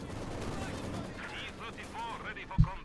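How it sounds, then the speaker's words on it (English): Tank cannon and machine-gun fire from a Soviet T-34-85 with its 85mm gun in Company of Heroes 2, engaging Panzer Grenadiers, with one sharp report standing out late amid continuous battle noise under a commentator's voice. "After they're firing away there at the advancing Panzer Grenadier"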